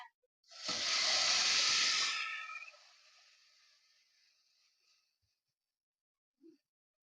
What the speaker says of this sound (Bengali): তা দিয়ে দেবো এখন 1 চামচ করে আমি যে ডোটা বানিয়ে রেখেছি এই ডোটা দিয়ে দেবো এখন